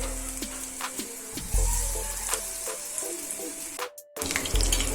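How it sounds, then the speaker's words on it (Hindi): Mixed vegetable pakoras shallow fry in a pan of oil, giving a steady close sizzle with scattered small pops and a few sharper clatters toward the end. "ये 1 मिनट के लिए हमने इनको फ्राई कर लिया है।"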